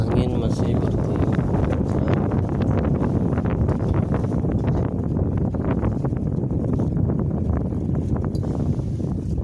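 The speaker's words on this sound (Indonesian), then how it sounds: "dan angin masih bertiup." Strong wind roars and buffets the microphone near the crater of Mount Merapi in Yogyakarta, a constant, loud, rough rumble that lasts the whole stretch.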